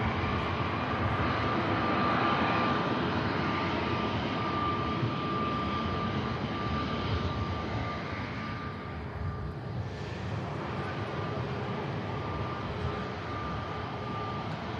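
A Pegasus airliner passes at Manchester Airport, its engines a steady, fairly distant roar that holds for the whole stretch and eases slightly toward the end, with no talking over it.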